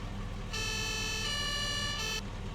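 Emergency vehicle siren from a Farming Simulator 22 mod, a steady electronic tone switching in partway, holding for about a second and a half, then cutting out, over a constant engine drone.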